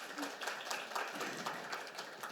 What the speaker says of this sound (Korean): 양금희 의원님께 다시 한번 큰 박수를 부탁드리겠습니다